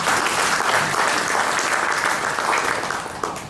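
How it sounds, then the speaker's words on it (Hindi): Loud applause from an audience at an offline technical training event, dense continuous clapping that holds steady for a few seconds before easing slightly near the end. "इनके लिए भी जोरदार तालियां।"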